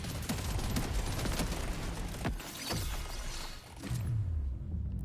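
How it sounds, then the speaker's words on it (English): A four-barrel shotgun fires in the video game Deep Rock Galactic: Survivor, with rapid overlapping blasts and crashes that form a dense volley under busy game effects, then settle into a low rumble. "Now a 4-barrel shotgun."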